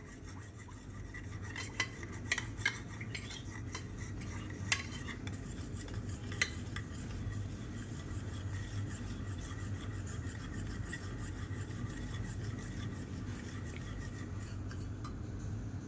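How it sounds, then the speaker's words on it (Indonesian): A spoon stirs cornstarch mixed with boiled water, giving a few light clinks and scrapes against the bowl early on, then a steady soft scraping rub under low background hum. "Jadi setelah kita menambahkan maizena, kita juga harus menambahkan dengan air yang telah tadi kita didihkan. Lalu setelah itu kita akan mengaduknya."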